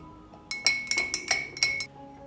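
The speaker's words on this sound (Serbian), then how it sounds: "Stavit ću 2 kašičice soli, pa ću to promešati." A spoon stirs two teaspoons of salt into whey in a glass, giving a quick run of about seven bright, close clinks against the glass in an uneven rhythm.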